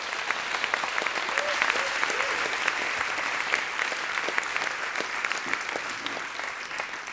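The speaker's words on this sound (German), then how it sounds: "Herzlichen Applaus bitte für Jessica Starke" Steady applause from a science slam audience at Roxy Ulm fills the room, a dense crackle of many hands that holds at an even level throughout, with faint cheering underneath.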